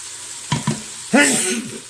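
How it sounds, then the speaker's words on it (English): Food browning in an Instant Pot for a low country boil, with two short stirring clatters followed by a longer burst of sizzling and frying up close. "As you can tell, we're starting to get everything browned up."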